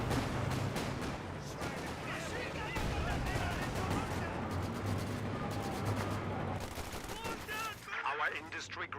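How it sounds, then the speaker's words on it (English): Grenades and gunfire in the Company of Heroes 2 battle game, dense rapid rattling shots with heavy blasts, continuous and loud under a voice talking. "Assault Grenadiers throws a pair of grenades."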